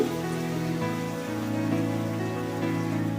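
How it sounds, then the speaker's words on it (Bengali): Mango luchi puffing in hot oil during deep-frying gives a steady, dense sizzle and crackle, close and continuous throughout with no voices. "এক করে সব লুচিগুলো আমি ভেজে নিচ্ছি"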